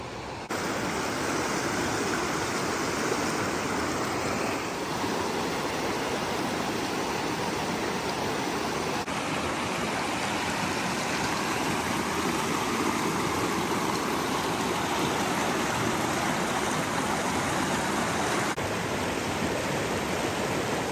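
Cascade Creek, a mountain stream north of Durango, Colorado, flows in a continuous, even rush of water that holds steady throughout with no voices.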